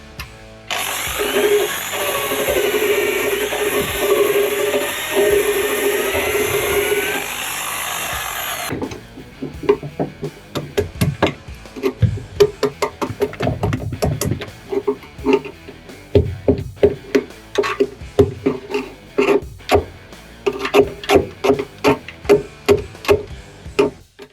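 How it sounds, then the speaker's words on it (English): An angle grinder works on rusty metal on a Steyr expedition truck, a loud continuous high whine for about eight seconds, then stops and gives way to irregular metallic knocks and clicks. "Well, I guess we'll get the grinder on it and see where we end up."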